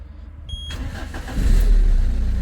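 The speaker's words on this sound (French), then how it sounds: "C'est bon, ça démarre. Ça met 2 coups," A Citroën Berlingo HDi 90 diesel engine cranks over and catches, a short starter whirr that settles into a loud, rough close-up idle, with no talking.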